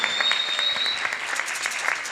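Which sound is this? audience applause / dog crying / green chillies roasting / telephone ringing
audience applause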